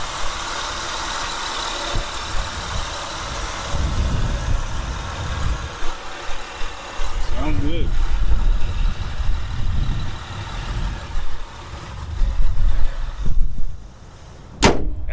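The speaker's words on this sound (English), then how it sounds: "All right, so here's the engine." A used 2007 Honda Pilot EX-L idles steadily up close, a low engine rumble that swells and eases with handling noise and brief talk near the end.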